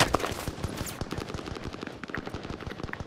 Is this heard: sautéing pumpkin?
no